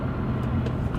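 A BMW M240i's turbocharged engine spools on a winding road, heard as a brief, steady, loud engine drone from inside the car.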